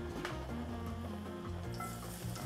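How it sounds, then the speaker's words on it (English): Garlic sizzling in hot oil in a pan, a steady continuous crackle with low hum underneath, close and moderately loud throughout. "And now once your oil is all heated up, you put some garlic."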